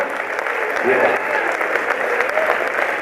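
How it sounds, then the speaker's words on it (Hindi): Applause from a live audience at a Haryanvi comedy show on a community stage, a dense wash of clapping that holds at an even level, with a faint voice mixed in underneath. "जोरदार एक बार तालियां बजाए साहब।"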